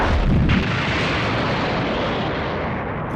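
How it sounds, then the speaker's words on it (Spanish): A heavy explosion sound effect booms at the start, then trails into a long, loud rumbling roar that slowly fades without fully dying away. "Una explosión mayor que las anteriores estalló desde su mano, un trueno que rasgó el aire."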